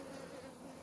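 A steady, continuous buzz of bees droning close by, with no pauses and no voices.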